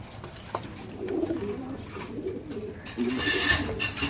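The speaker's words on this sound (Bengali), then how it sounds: "গোল্লা কবুতর।" A Golla pigeon at a pigeon farm coos in low, soft repeated calls close by, over a steady background hum that grows busier near the end.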